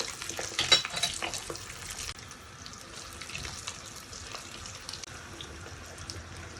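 Keto prawn fritter batter frying in a pan, producing a steady low crackling sizzle with a brief burst of louder spattering early on, close and alone without talk.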